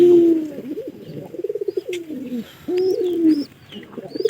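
A pigeon coos close by in repeated low, throaty phrases, with a few faint higher chirps in the background.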